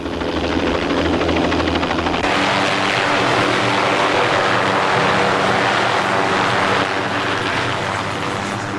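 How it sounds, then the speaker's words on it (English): A helicopter approaches slowly: a loud, steady engine drone with rotor-like throb fills the scene, holding constant throughout with no voices. "Within 5 minutes, the helicopter was on the scene."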